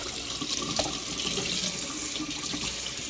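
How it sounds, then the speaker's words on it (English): Hot tap water runs from a kitchen faucet over cooked pasta in a sink, a close, steady splashing gush that continues without a break. "run it over under a little bit of hot water"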